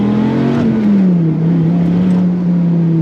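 A Dodge Viper GTS V10 sports car engine rumbles loudly and steadily from the side exhaust, with a slight drop in pitch as it settles.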